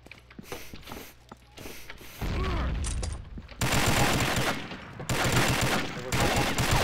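Bursts of rapid gunfire in the video game Combat Arms crackle in loud, dense volleys, separated by short pauses, with faint talk early on.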